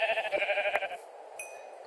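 Sheep in the Minecraft video game bleat in a quick wavering cry, followed by a faint second bleat and short game sound effects, with no talk.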